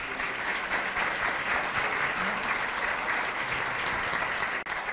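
Steady, dense audience applause at a circular-opportunities pitch event held in a museum, sustained evenly for several seconds before cutting off abruptly near the end.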